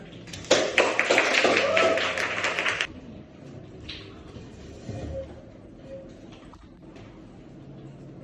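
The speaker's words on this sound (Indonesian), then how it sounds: "Oke, tepuk tangan." An audience claps in a brisk burst of applause lasting a few seconds, then it stops abruptly and leaves quiet room noise with faint murmuring.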